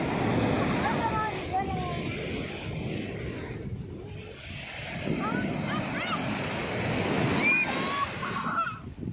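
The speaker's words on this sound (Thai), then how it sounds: "น้ำก็ซัดขึ้นมา" Sea waves wash onto a beach and recede in a steady surging rush, with a child and an adult talking over the surf.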